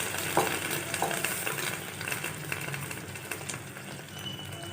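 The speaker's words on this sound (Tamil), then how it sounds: "நம்ம கரைச்சி வச்சுருக்கிற புளிக்கரைசலை சேர்த்துக்கலாம்" Sautéed okra vegetables sizzle steadily in a pan as tamarind extract is added, a dense close frying hiss with light stirring and occasional utensil taps, no voices.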